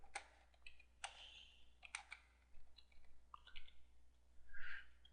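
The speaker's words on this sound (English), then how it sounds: "I start typing." Typing on a computer keyboard: a scattered run of soft key clicks and taps, faint and close, with irregular pauses between keystrokes over a quiet hum.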